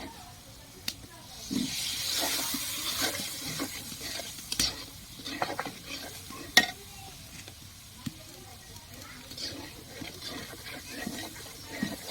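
Potatoes and food sizzle and hiss in a pan while being stirred, with scraping strokes and occasional clinks under a steady frying hiss; voices talk nearby.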